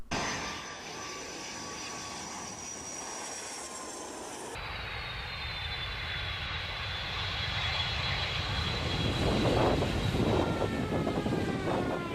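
An airplane engine drones loudly and steadily, with a whining tone and a rising roar that peaks in the later seconds, with no voices.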